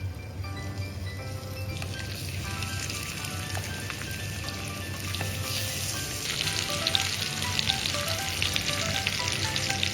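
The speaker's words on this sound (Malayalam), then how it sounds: "ഡീപ് ഫ്രൈ അല്ല, ജസ്റ്റ് ഒരു ഷാലോ ഫ്രൈ." Chicken pieces shallow-frying in hot oil give a loud, continuous sizzle with sputtering pops, with occasional clinks early on and the crackle growing busier toward the end, with no one speaking.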